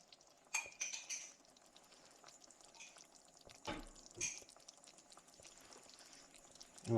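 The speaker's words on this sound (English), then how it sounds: "And with this, you want to get a good stir." A spoon stirring a one-pan beef skillet with Rotel tomatoes, quiet scraping with a few distinct clinks against the pan, mostly soft between the louder knocks.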